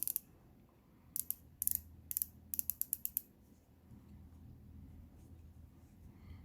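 Micrometer being unclamped and zero-adjusted, small sharp metallic clicks and ratcheting ticks in quick clusters, close and quiet, then a soft low handling rustle.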